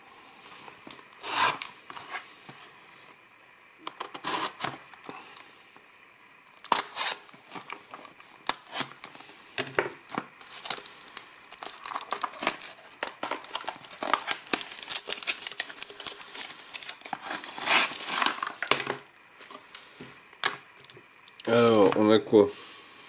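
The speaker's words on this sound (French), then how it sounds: "Donc on va déballer ça rapidement." Plastic packaging for a budget OK-brand selfie stick is unwrapped in bursts of crinkling, tearing and rustling close to the microphone, with short pauses and some handling clicks throughout.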